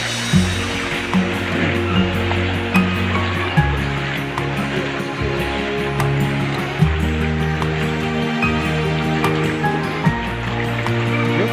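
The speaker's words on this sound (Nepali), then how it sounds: "पानी पर्यो।" Rain pours and water rushes steadily along a flooded street in Kathmandu, a continuous loud wash with low rumbling and occasional knocks, and little talk.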